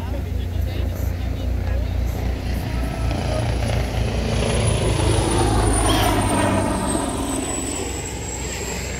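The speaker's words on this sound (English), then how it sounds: "Officer Brummer requested a medevac helicopter when he first arrived and is now arriving on scene" A medevac helicopter arrives at the scene of a car crash in Stafford Township. Its loud, continuous rotor and engine roar sweeps past nearby and fades slightly toward the end.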